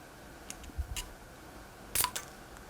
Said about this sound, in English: I'm just going to put the flathead in there, and you can see I can get some leverage on there and just pop it off